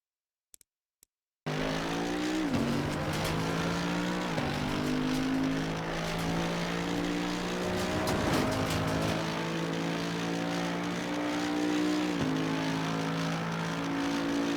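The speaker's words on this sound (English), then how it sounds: "AMG monster motor." A Mercedes-AMG GT3 EVO race car in Assetto Corsa Competizione at Barcelona starts after a short silence and holds a loud, continuous engine drone, rising through the gears with several brief dips at the shifts.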